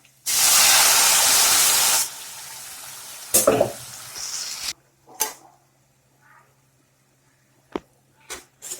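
A loud, steady hissing sizzle as a wet ground paste for capsicum and mushroom gravy hits a hot pan, then quieter bubbling and sputtering with scattered pops.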